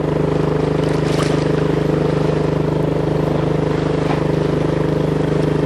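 Steady motorboat engine drone with a low rumbling hum and faint water wash, running continuously while the boat circles a small rocky skerry islet off the Swedish coast.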